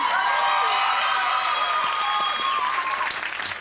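A late-night talk show studio audience applauding and cheering, dense continuous clapping with whoops that stays loud and fades slightly toward the end.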